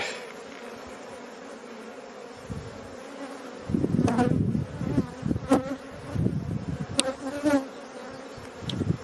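Honey bees buzz steadily around a hive, with louder bursts as individual bees fly close past, all without voices.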